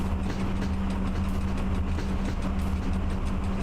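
A train rolls along in the Train Driver 2 game hauling cargo, a steady rumbling drone with a constant low hum and faint rhythmic rail clatter, even in level and unbroken, with no voices.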